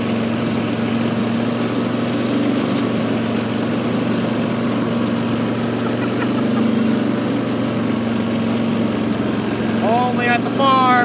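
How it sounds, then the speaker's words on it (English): An old tractor engine chugs and idles loudly with a low, steady rumble, and a voice briefly cuts in near the end. "This is his idea to start the old tractor up."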